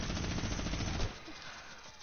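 Gunfire in a video game: a dense, loud rattle of rapid automatic shots for about a second, then dropping away to quieter background game sound.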